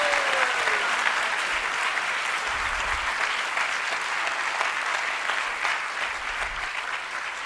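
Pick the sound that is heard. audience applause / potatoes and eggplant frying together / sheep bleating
audience applause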